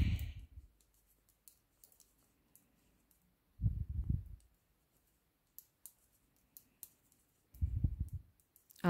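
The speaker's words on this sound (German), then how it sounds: "Und stricken wir zurück wieder." Knitting needles click faintly while a child's top is knitted, scattered light ticks between a few louder bursts of handling and rustling, close and otherwise quiet.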